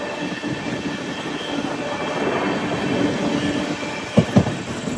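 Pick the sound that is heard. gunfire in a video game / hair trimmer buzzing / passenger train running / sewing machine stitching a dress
passenger train running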